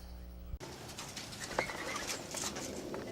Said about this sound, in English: Those noises are the sounds of several injured birds